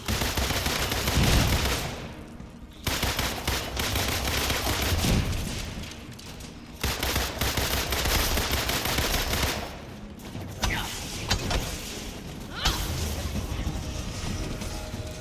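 Rapid turret gunfire rattles through the Marvel's Avengers video game combat, sustained bursts of automatic fire with brief pauses between volleys.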